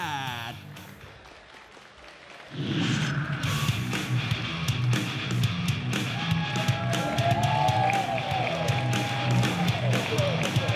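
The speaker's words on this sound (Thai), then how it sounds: "ขอเสียงปรบมือให้วายุน้อยไดมอนด์98" Audience at a Muay Thai fight night in Thailand applauding fighter Wayu Noi Diamond98 from the red corner, a crowd's clapping and cheering swelling up suddenly and continuing steadily, with an announcer's voice heard beforehand.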